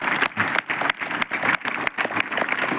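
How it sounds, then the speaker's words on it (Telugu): An audience at a school function claps in a burst of applause, loud and dense, pulsing in uneven waves with brief dips between them. "మనం ఒకసారి గట్టిగా చప్పట్లు కొట్టాలి"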